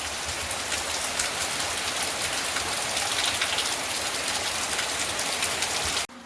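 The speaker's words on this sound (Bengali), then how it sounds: "যা বৃষ্টি হচ্ছে" Heavy monsoon rain pours steadily and close by, a dense unbroken hiss of drops striking surfaces that holds at an even level for several seconds before cutting off abruptly at the end, with no voices.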